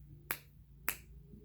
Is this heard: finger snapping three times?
yes